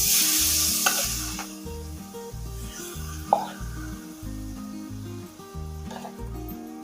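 Marinated paneer sizzles steadily in a hot pan on the stove while being stirred, with a continuous loud fry hiss and repeated scraping strokes at an even rhythm, close up and with no talk.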